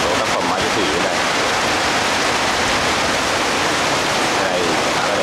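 Heavy rain falling outdoors, a loud, steady, dense hiss of downpour that fills the whole scene without letup.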